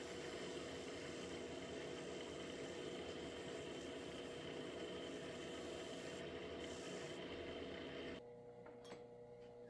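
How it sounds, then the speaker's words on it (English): A wood lathe runs at high speed, spinning a small snack bowl being oiled, giving a steady whirring hum with a light rubbing hiss that drops quieter near the end; no voices. "Turning the lathe on a higher speed here helps cure the oil into the wood"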